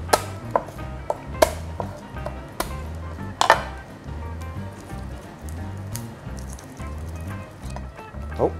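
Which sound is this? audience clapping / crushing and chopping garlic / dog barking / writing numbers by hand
crushing and chopping garlic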